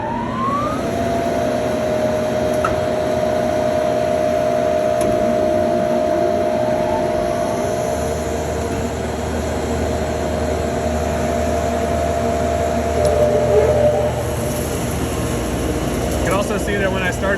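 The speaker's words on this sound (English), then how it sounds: "See that when I started the motors" Lobo 25-inch double-sided helical planer with its motors starting up, a steady loud machine hum with a sustained tone that shifts as the motors come up to speed, with a low rumble joining partway through.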